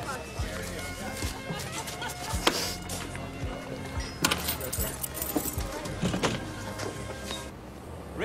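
A bunch of keys jangles over the sound of a moving car with its power windows running, a few metallic rattles standing out amid people talking inside the vehicle.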